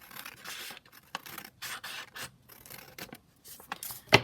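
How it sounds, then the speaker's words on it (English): Paper snipped with scissors for a junk journal craft, a run of quick, close, crisp cuts and rustling snips in short bursts with brief pauses, ending in one sharper snip. "let me cut"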